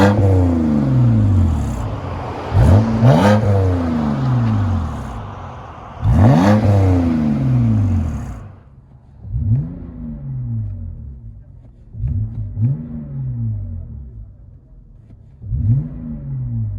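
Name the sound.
2008 BMW 528i exhaust revving with muffler delete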